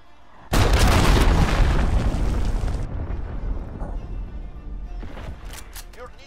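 Enemy cruise missile exploding in a video game: a sudden loud boom followed by a long rumbling decay, with game voices faintly heard afterward.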